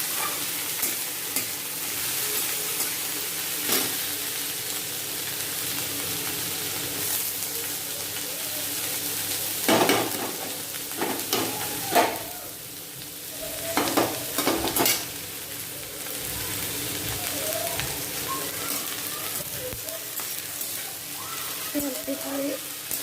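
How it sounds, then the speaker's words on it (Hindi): Shredded cabbage fries in a hot pan for a veg roll, giving a steady, close sizzle throughout, with scattered louder clatters of stirring and scraping and no talking. "ये मेरा पत्ता गोभी भून रहा है अभी"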